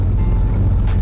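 A car engine in the video game Car For Sale Simulator 2023 gives a steady, loud, low rumbling idle that holds evenly throughout.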